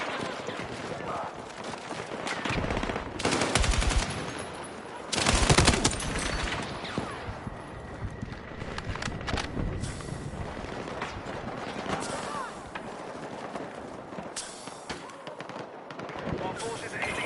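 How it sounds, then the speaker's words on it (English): Frag grenade thrown and exploding amid heavy gunfire in Battlefield 6, loud crackling bursts of automatic fire and blasts near and far, with shouted voices in the mix. "Throwing frag!"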